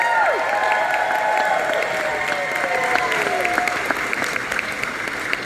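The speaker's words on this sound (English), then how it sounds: "can we give them a round of applause" An audience at a Connecticut chocolate expo Q&A with the Willy Wonka cast gives a sustained round of applause, dense clapping with cheers and whistles over crowd murmur.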